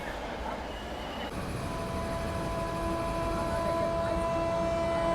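Haldia–Anand Vihar express train overtaking on an adjacent track, its loud rolling rumble and high squealing wheel tones swelling up close and alone for several seconds.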